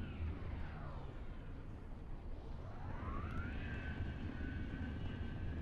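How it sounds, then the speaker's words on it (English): Spaceship thrusters in Star Citizen roar steadily, a dense engine drone with whining tones sweeping down and then up in pitch, continuous and moderately loud throughout, with no talk. "And the thrusters just take you off."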